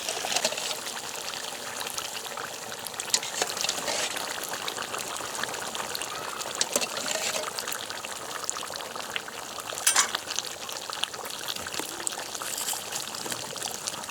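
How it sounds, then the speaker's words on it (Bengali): Hot water pours into a pot of fried country chicken, a continuous trickling, splashing stream that is close and moderately quiet and runs steadily for a long stretch with no talking. "মাংসটা ভাজাই গেছে, এই হাঁড়িতে গরম জল, এই গরম জল দিয়ে দিলাম"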